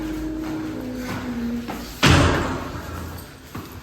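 An auto-locking entrance door of a Paris apartment building swings shut with a single loud slam and latch clunk midway, followed by a fainter knock, over a quiet indoor hum.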